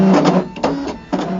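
A ScanNCut cutting plotter works through felt and foam sheet, giving a close, loud mechanical whir with short pauses and restarts as the carriage moves.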